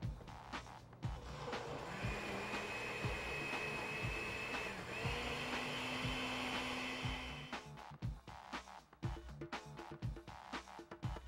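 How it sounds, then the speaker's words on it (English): A blender whirs through carrot soup ingredients with ginger, lime, salt and cayenne, a steady motor drone for several seconds that then cuts off into scattered clatter. "And then we just blend these."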